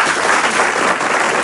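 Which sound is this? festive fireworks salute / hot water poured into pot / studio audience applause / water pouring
studio audience applause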